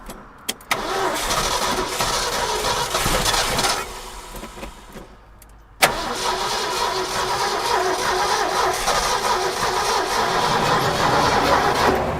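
An abandoned 1969 Ford F100 truck's engine cranks loudly in a long grinding stretch, pauses briefly, then catches and settles into a steady, loud running rumble, close up with no voices.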